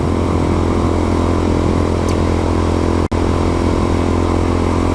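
Motorcycle on an adventure ride along the Allegheny loop: a loud, steady engine drone with constant wind and road roar close up, and a brief dropout during a gear shift partway through.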